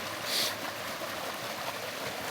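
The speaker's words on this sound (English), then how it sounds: "this is that little creek I was mentioning earlier" A small creek near Chama in northern New Mexico flows with a steady, hissing babble of water, continuous and fairly close, with no voices.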